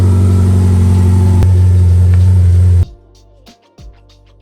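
A Ferrari engine rumbling steadily from inside the car, a loud, deep continuous drone with a brief click partway through, cutting off abruptly to near silence, with no one talking.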